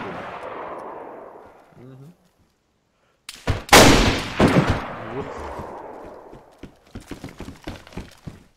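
Bursts of gunfire in a video game crackle loudly, with a dense volley in the middle and sharper isolated shots toward the end, after a stretch of muffled voices.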